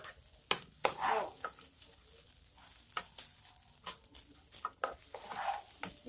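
Rice and carrots sautéing in a pan for a home Sunday lunch, a soft sizzle broken by sharp clinks and scrapes of stirring, close but fairly quiet, with faint voices in the background.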